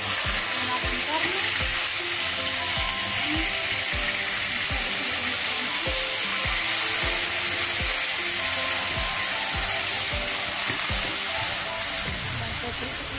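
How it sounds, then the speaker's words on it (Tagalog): Meat fries in a hot pan with a steady, dense sizzle and crackle, close and continuous, accompanied by rhythmic scraping knocks of a utensil stirring against the pan. "ito po iprito muna natin ang ating karne."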